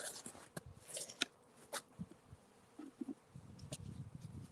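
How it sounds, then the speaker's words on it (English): Bees buzz around the entrance of a healthy beehive, with faint, soft droning passes and small ticks and taps nearby, quiet and intermittent throughout. "obviously there's bees coming in the front that I didn't see"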